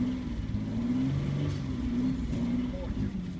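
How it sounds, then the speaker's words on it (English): A 2005 Hyundai Sorento 3.5 V6 engine in a 4x4 runs at steady, loud idle and climbs into a rev, with a continuous droning hum close by. "Let's see if I can give it some gas, if it'll rev or not."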